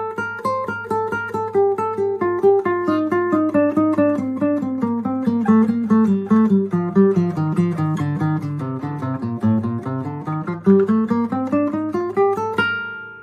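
Slow guitar synchronization scale exercise: clear single plucked notes follow each other in a steady, even rhythm, stepping up and then back down, played alone and close with no talking.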